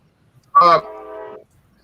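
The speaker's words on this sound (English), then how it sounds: "I'm like 150 feet away from a train" A train horn sounds from about 150 feet away, a single short blast with a sharp onset that settles into a steadier, quieter tone for under a second before cutting off.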